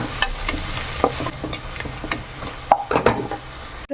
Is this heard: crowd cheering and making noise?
no